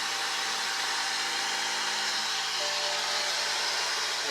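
A BMW X5 air suspension compressor running, a loud, steady, close mechanical whine and buzz that holds constant throughout.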